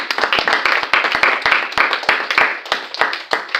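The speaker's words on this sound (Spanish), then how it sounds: "Puede ofrendar, darle ofrenda palmas al Rey en esta hora." A church congregation claps hands as an offering to the King, a steady run of sharp, close claps in uneven rhythm filling the whole stretch with no voices.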